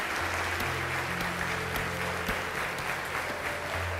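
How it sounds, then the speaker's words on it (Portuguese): A church congregation applauds in worship, producing steady, dense clapping that fills the whole moment at a moderate distance, with faint background music tones underneath. "eleve suas mãos e aplauda aquele que sempre está conosco"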